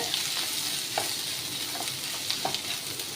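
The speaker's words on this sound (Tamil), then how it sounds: "வெங்காயத்தை லைட்டாக சோஃப்டாக வர வரைக்கும் வதக்கி எடுத்துக்கோங்க" Onions sauté in a pan for paneer butter masala, a steady close sizzle with a few scraping stirs of a spoon, and no talking.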